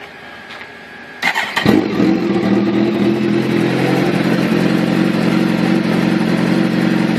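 A 2007 Kawasaki ZX-14 fitted with a Muzzy M10 full exhaust fires up after about a second of quiet, then settles into a loud, steady, deep idle rumble that runs close by and unbroken to the end.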